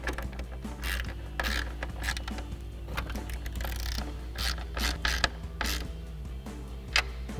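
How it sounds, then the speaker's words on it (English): A ratchet with a 10mm socket tightens tail light nuts on a Mustang S550, giving a quiet close run of repeated clicking pawl ratchets in short bursts, with small clanks between strokes. "tighten them down with our 10mm socket"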